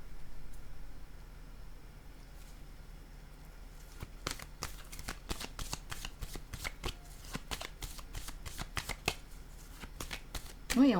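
A fresh deck of cards is shuffled for a card reading, a quiet stretch followed by a rapid run of crisp riffling flicks up close, alone without talk.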